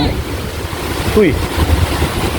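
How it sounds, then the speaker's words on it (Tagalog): Strong sea waves roll onto a beach with clean, darkish sand, a loud, constant surf roar mixed with heavy wind buffeting the microphone and a brief voice in the middle. "Lakas ng alon dito."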